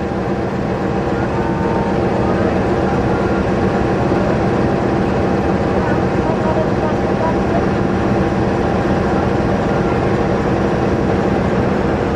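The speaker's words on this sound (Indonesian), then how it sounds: "Kereta api Brawijaya." Steady low rumble of a large long-distance passenger train at an Indonesian station, idling or rolling slowly, continuous and loud, with a faint murmur of people in the background.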